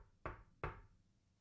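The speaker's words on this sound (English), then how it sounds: "He knocked again." A pair of firm knocks on a wooden cabin door, close and clear, two solid thuds about a third of a second apart, then quiet.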